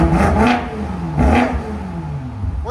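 BMW M5 4.4L twin-turbo V8 with aftermarket exhaust, revved hard twice in quick blips that rise and fall, close and loud, settling to a rumbling idle between.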